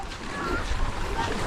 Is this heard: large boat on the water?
yes